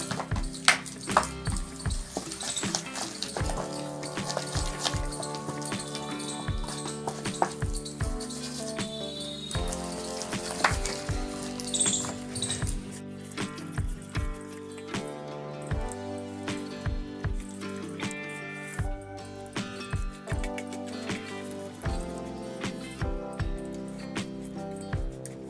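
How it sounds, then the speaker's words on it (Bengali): Batter is mixed by hand with small additions of water, for a pointed gourd (parwal) fry. Wet squelching and slapping repeat in an irregular rhythm throughout, close and moderately loud, with no talking. "আর এটা অবশ্যই হাত দিয়ে মাখবেন"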